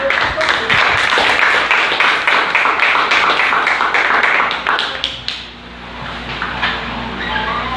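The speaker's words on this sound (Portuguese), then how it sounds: "Vamos aplaudir Jesus" A church congregation applauds during a Sunday evening service, brisk, loud clapping that rings out for about five seconds before trailing off into scattered claps and room noise.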